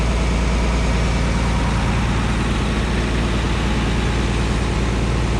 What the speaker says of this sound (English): Just a little bit of viscous drag making the PTO turn right now